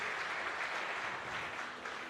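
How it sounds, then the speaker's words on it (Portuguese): A church congregation applauds in a steady, dense round of clapping that carries on throughout. "Podemos aplaudir ao Senhor por essas vidas também?"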